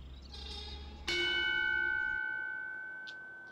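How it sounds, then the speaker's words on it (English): A single church bell strikes with a sharp attack and a long ringing decay that slowly fades, after a softer earlier tone, in an otherwise quiet setting. "The bells are broken."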